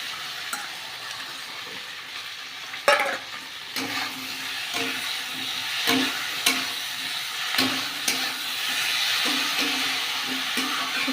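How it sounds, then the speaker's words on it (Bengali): Shrimp fry in hot oil with spices in a pan, giving a steady sizzle and hiss. Occasional clinks and scrapes of a stirring spoon break through the sizzle. "এক মুঠো চিংড়ি মাছ দিয়ে দেবো। চিংড়ি মাছটা দিয়ে একটু ভাজলে"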